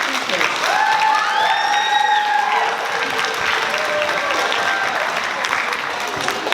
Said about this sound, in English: Can I have another round of applause for our brilliant speakers?